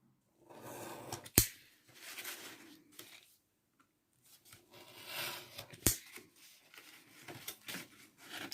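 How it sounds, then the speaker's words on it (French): Scissors cut through folded mini album paper in slow, irregular snips and rustles, close and quiet, with two sharp clicks and short pauses between cuts. "je coupe là, simplement au niveau des pliures."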